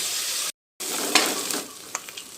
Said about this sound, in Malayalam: അതേ ചീനച്ചട്ടിയിലേക്ക് വീണ്ടും 1 ടീസ്പൂൺ വെളിച്ചെണ്ണ ഒഴിച്ച് നമുക്ക് കുറച്ച് സബോള ഇട്ടൊന്ന് വഴറ്റാം.